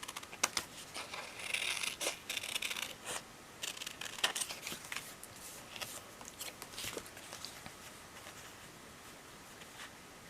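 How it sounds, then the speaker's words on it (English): Scissors trim a paper tree sticker in a planner, giving a quick series of close, crisp snips and crinkly cuts, busiest in the first half and then fading to faint paper rustles. "Trim some of the tree off."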